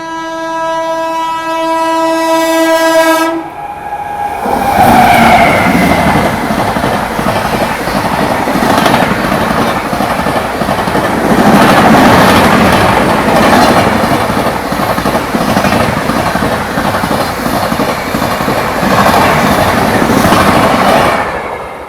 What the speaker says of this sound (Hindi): अभी देखो बगल वाली लाइन से भी कोई गाड़ी क्रॉस हो रही है, ये भी एकदम फ्लैट 130 पे आ रही है।